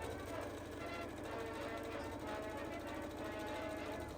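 Sewing machine running steadily as it stitches the side seam of a dress lining, a continuous even mechanical whir with rapid needle rhythm throughout, fairly quiet and close.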